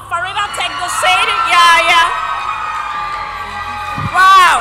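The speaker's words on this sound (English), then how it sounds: "I see why you're giving her a special round of applause" A school audience at an annual lecture and prize-giving day cheers and whoops loudly for a prize winner, with high children's voices rising in a sustained excited roar that swells again near the end.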